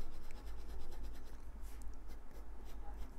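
A Kaweco Al-sport fountain pen nib, used reversed, writes on paper with a close, faint, continuous dry scratching and soft strokes, alone without talk.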